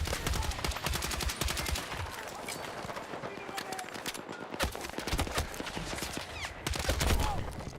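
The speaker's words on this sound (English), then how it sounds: "And that was a sniper right there" Gunfire from a Battlefield 6 match, dense crackling rifle shots and bursts close and distant throughout, with a sniper rifle among them, layered over busy battlefield noise.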